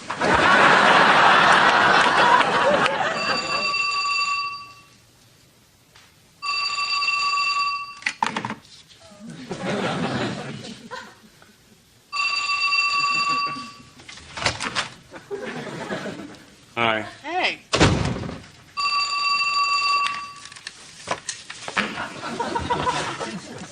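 A telephone rings repeatedly in a sitcom home, bright electronic trills in regular bursts with pauses between, while people talk and a studio audience laughs in the gaps.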